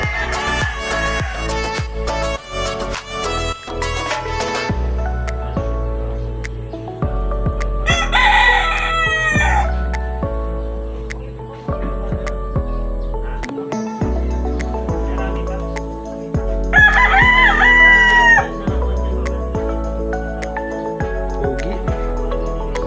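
Gamefowl roosters crow loudly and repeatedly in a small backyard gamefarm area in Abra, two long calls standing out over steady background music, with no talking.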